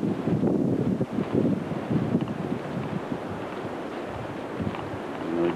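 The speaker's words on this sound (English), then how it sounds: "It's real windy." Strong wind at night at a campsite in Cades Cove buffets the microphone with a loud, rumbling roar that surges in gusts, then eases slightly toward the end.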